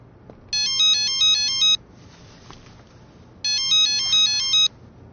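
A mobile phone plays a bright electronic melodic ringtone in two bursts of rapid stepped notes with a short quiet gap between them, heard clearly against a low background hum.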